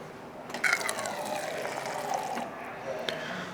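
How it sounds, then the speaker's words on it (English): Red wine pours into a glass as a small one-ounce taster, giving a soft, continuous liquid trickle for a few seconds with light background noise. "There's a little 1 ounce pour."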